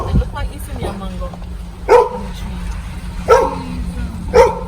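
A dog in a rural Jamaican village gives about four loud, close barks spaced roughly a second and a half apart, over a steady background hum.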